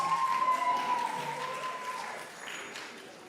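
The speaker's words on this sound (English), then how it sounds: "Let's give them a round of applause" An audience at a performing arts gathering claps in a soft, fairly distant round of applause that fades gradually toward the end.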